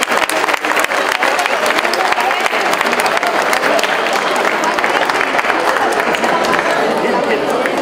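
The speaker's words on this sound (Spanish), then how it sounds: "Fuertes los aplausos." Loud, dense applause from a university audience at an event against all forms of violence, a steady wash of many hands clapping for the whole stretch, with murmured voices mixed in.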